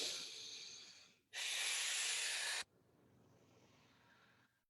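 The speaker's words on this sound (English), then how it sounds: "Again, take a big inhale." Deep breathwork inhales and exhales close to the mic: a hissy breath, a pause, then a long forceful airy inhale, followed by a softer steady exhale fading out.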